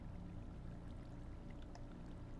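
Water pours steadily into a machine in a modded video game, making a continuous, even rushing wash with faint bubbly splashes on top and no voices.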